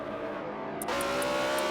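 A stalled Hyundai race car at Watkins Glen in a sim racing game revs and pulls away again, its engine note rising steadily and loud with a constant drone.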